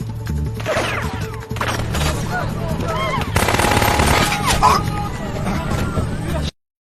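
Bursts of rapid gunfire crackle amid crashes and chaotic action in an action film scene, with voices and shouting mixed in, loud and close.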